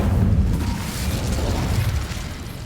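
An Incendio fire spell erupts in Hogwarts Legacy with a loud burst and boom at the start, then a rushing, crackling fire roar that holds steady before fading slightly, with no talk over it.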